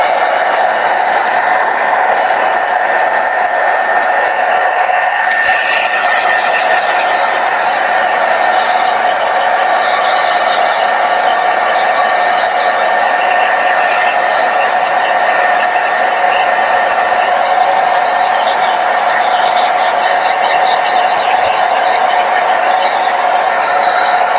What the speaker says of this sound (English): let me just get my hair dryer.